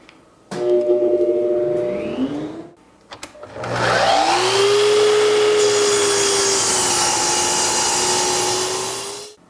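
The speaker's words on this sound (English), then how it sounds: "I'm going to go ahead and get this cherry ripped down to 12 inches." Cherry plywood is ripped to width on a power saw, with a motor spinning up, a short cut, then a long, loud, steady whine and blade roar as the board feeds through, winding down at the end.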